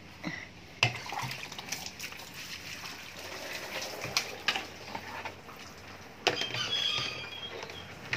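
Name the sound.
water splashing while washing feet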